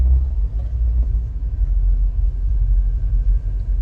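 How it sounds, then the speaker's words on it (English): Twin outboard motors on a Yellowfin 7600 idle as the boat crab-walks sideways, giving a close, steady low rumble with slight throbbing fluctuations and no talk. "our motors are actually turned to crab walk the boat"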